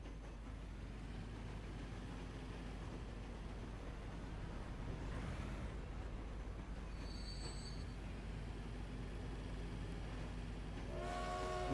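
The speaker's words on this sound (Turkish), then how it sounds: "Şimdi başlatıyorum ve trenimiz ilk seferine çıkıyor." A freight train departs in the video game Transport Fever, with a steady low rumble of rolling wagons, a brief high wheel squeal midway and a brighter tonal squeal near the end.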